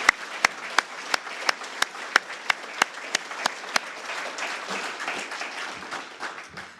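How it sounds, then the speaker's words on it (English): Audience applause at a Kiwanis veterans recognition luncheon, opening with a run of sharp, evenly spaced nearby claps that give way to a broader, steady patter of clapping from the room. "will you please join me in giving Pier 22 staff a round of applause for the effort that they did today"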